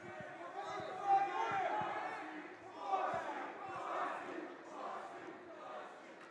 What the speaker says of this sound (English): The Sun Valley crowd is chanting some profane language, I think, at one of our players